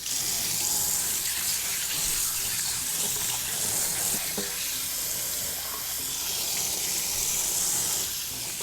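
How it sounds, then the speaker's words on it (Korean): Tap water runs steadily and loudly over cleaned squid in a sink, a continuous hissing splash with slight changes as the squid is turned under the stream. "그리고요 여기다 놓고요 일단 헹굴게요."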